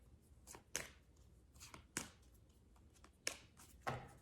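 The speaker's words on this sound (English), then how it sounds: "And then we'll just kind of shuffle." Cards being shuffled by hand in a quiet room, a series of soft riffling slaps at irregular intervals, close and fairly faint.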